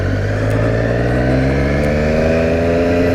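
A 2018 Triumph Street Triple RS 765 motorcycle engine runs loud and close, its revs rising steadily in a smooth climbing tone for a few seconds.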